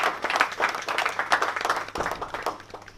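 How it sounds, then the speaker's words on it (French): Audience applause in a hall for a young Congolese man presenting initiatives for children, a dense patter of clapping that swells and dips over a few seconds with some faint voices mixed in. "Ovation, s'il vous plaît,"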